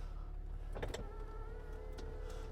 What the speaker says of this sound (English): the steering wheel's moving, this electric memory seat, steering wheel's moving, seats moving, mirrors moving to the set position